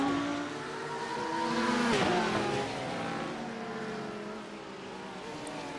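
GT3 race cars in a racing video game speed across a mountain section of the track, with several engines whining and roaring together and a louder car sweeping past midway.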